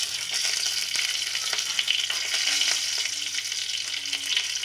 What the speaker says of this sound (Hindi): अब इसमें मैं लहसुन की 4 तुरियां ऐड कर रही हूँ